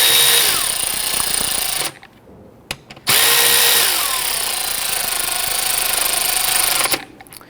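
A power tool snugs intake manifold bolts on a 2011-2015 Kia Sorento, sounding as loud, close, continuous whirring bursts separated by a short pause.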